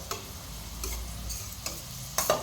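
Onions frying and being stirred in a pan during a breakfast cook, a soft steady sizzle with a few brief scraping clicks of a spatula, close by and fairly quiet, no voices.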